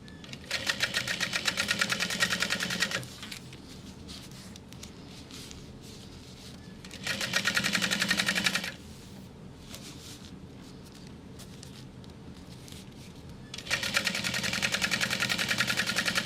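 A sewing machine topstitches a sling seam in three bursts of steady, rapid stitching, each a few seconds long, with quiet pauses between them.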